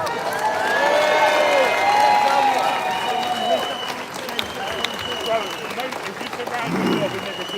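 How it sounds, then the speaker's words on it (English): A crowd at a British public rally against grooming gangs applauds and cheers, with whistles and shouts riding over steady clapping and babble, all fairly loud throughout. "please give a massive, massive round of applause for Elizabeth Harper, please."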